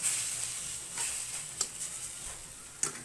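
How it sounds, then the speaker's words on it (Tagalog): Egg, tomato and onion sizzle steadily in a pan, a close, continuous frying hiss with a few faint ticks and pops. "Hanggang maluto yung itlog, luto yung kamatis at saka"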